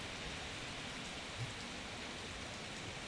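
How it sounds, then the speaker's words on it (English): Steady, faint rain and wind from Typhoon Jolina hiss evenly throughout, a constant wash of noise with no distinct gusts or voices. "So let's hear the wind and the rain."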